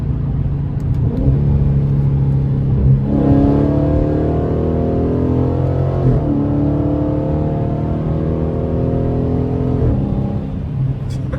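A Dodge Charger 392 Scat Pack with a very loud aftermarket intake revs and accelerates hard up close, its deep engine roar rising and falling through several pulls with no talking.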